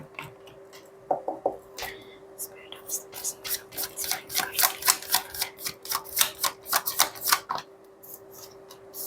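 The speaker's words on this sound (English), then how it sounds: "let's take a look at your tarot cards now" A deck of tarot cards being shuffled, a steady run of crisp riffling snaps and soft slaps close up, with a faint steady hum underneath.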